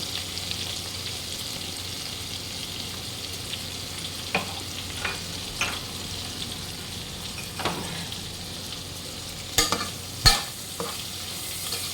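Prawns fry with salt and turmeric in a pan, a soft steady sizzle broken by a handful of scattered scrapes and knocks from stirring, quiet and unaccompanied by speech.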